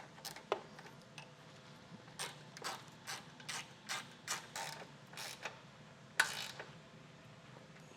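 A ratchet wrench clicks in short bursts while tightening base plate mounting bolts on a 2013 Mini Cooper, quiet close metallic ticking repeated about a dozen times against a still background.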